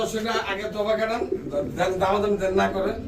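Silver Lahori pigeons give soft, repeated coos close by, partly under a voice speaking over them.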